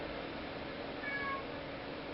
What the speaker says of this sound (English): No, shut up, cat.